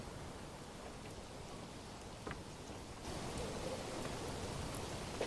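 Steady summer rain in the Manor Lords medieval city-building game, a soft continuous hiss of falling drops that swells somewhat louder partway through, with no voices over it.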